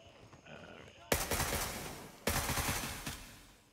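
Teammates firing in the Gray Zone Warfare shooter: two sharp onsets of sustained, loud gunfire bursts after a quiet opening, each volley decaying over about a second.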